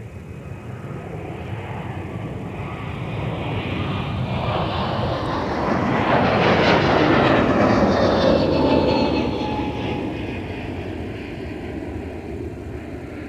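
A jet airliner bound for Anchorage takes off from runway 30 left at Minneapolis–St. Paul airport, its engine roar swelling steadily from a distant rumble to a loud peak before fading away, heard alone without voices.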